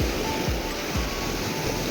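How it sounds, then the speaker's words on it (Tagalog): Strong ocean waves break at an island shore in a continuous loud rush of surf, with deep rolling swells surging in about every half second beneath the roar. "Lakas ng alon."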